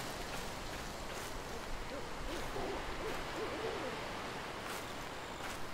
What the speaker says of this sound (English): Owl in the background